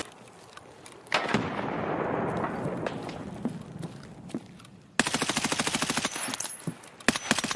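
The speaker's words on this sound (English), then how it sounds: "That's me shooting at you." Gunfire rings out in Escape from Tarkov: loud single shots and short bursts crack through the first half, then a rapid automatic string fires near and steadily, with a few final shots.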